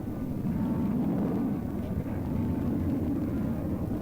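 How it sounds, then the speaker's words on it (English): Bell X-2 rocket-powered supersonic research aircraft landing, a steady low roaring rumble that holds loud and even without a break, with no voices over it. "This is not a jet aircraft landing. It is rocket power, a flying laboratory built for supersonic flight."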